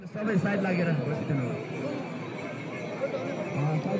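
Horses neigh and hooves clip-clop at the Shey festival horse race in Upper Dolpa, Himalayas, with crowd chatter and voices throughout.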